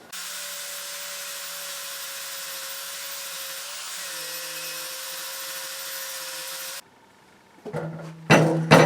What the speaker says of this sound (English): I'm just going to run the disc over it very quickly